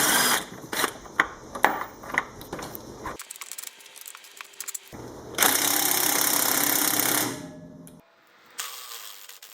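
A power tool removing the top bolt of a rear shock absorber on a Chevrolet HHR, with a rapid series of sharp ratcheting bursts followed by a longer continuous whirring run, close and loud with no talk.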